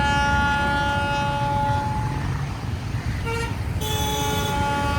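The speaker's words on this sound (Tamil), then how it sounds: "இது கொழும்பு ஃபோர்ட் போகிற ஒரு எக்ஸ்பிரஸ் ட்ரெயின்." An express train bound for Colombo Fort sounds its horn in a long sustained blast, which cuts off and then returns as a shorter toot, over a steady rumbling background near Wellawatte beach.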